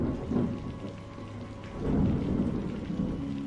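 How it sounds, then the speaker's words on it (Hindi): Rumbling thunder with steady heavy rain falling on surfaces, a low rolling boom swelling midway over continuous patter, alone with no voices, set as a stormy night scene in a village horror story. "तभी बादल गरजने लगते हैं।"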